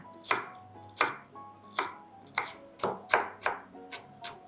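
A knife chops coriander root sharply on a cutting board, about a dozen crisp strikes in an uneven rhythm, close and clear, with no talking.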